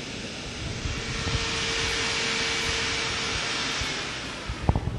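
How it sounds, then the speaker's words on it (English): A concept car's electric cooling fan spins up under electronic control, giving a steady broadband whoosh with a faint tonal hum, ending in a few sharp clicks. "this single device right here is controlling the fan. And maybe you can even hear it when I spin it up."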